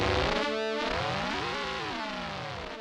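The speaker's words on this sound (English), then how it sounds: "Then there's even ring modulation built into the oscillators." Korg KingKORG modeling synthesizer playing a ring-modulated oscillator tone, metallic and bell-like with sweeping, shifting harmonics and a comb-like wobble, heard alone and sustained throughout.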